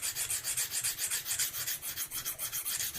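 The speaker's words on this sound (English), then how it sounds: "we're going to keep working with this extra coarse stone for as long as it takes to get a burr on the opposite side" Single-bevel broadhead sharpened on an extra coarse stone of a KME sharpening system, a close steady rasping rub repeating in quick, even back-and-forth strokes, alone without talk.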